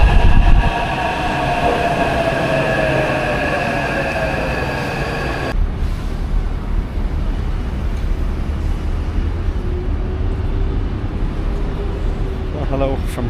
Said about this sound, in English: Just got off the tram.